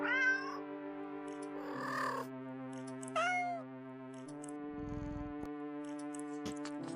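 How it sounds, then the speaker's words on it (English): Several cats meow in a string of clear, close calls with tonal background music, as a happy sound effect of cats eating fish. "The sounds of happy cats munching at their fish fills your ears."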